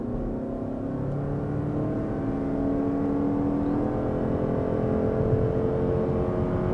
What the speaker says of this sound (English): Just tap on the gas a little bit and the car just wants to go